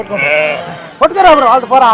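Sheep and lambs bleat loudly and close at a weekly market in Gudur, several wavering cries in quick succession, with a person talking briefly among them.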